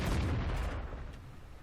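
A KV-2 self-propelled gun firing in World of Tanks, a single heavy, booming blast with a long rumbling decay that fades over about a second and a half, loud and close with no voices.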